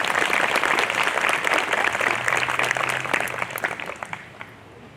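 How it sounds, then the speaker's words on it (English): Audience applause at a wind ensemble concert, a dense, steady clapping that fills the room and then thins out and fades toward the end. "Let's give a round of applause for that."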